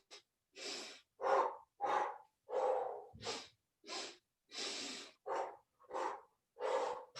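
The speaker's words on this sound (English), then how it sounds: "3-part breath in through nose." Deep yoga breathing through the nose in a slow-flow session, about ten long, close, airy breaths in steady rhythm with short pauses between, no talking.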